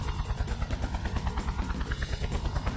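A helicopter in the video game Just Cause gives off a steady, loud rotor chop with rhythmic thumping over an engine whine. It plays alone, with no talk.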